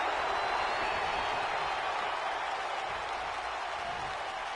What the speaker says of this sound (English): You hear the crowd losing their mind